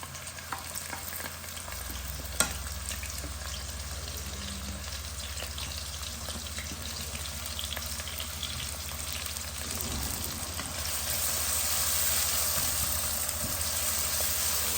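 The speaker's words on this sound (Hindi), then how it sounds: "ये ऑयल ऑलमोस्ट होने वाला है, ठीक है, इसमें डालते हैं प्याज" Onions frying in hot oil at home, a continuous low sizzle and hiss that grows slightly fuller toward the end, with an occasional faint clink from a utensil.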